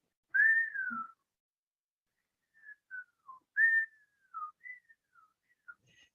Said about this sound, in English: When he said it, they all heard a whistle.